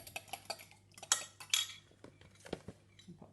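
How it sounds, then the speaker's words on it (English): A fork whisks eggs in a jug for chocolate brownies, giving quick, light clinks and taps of metal on the jug's side in an irregular rhythm, close and fairly quiet. "I'm just going to gently whisk them with a fork before I add them to the sugar"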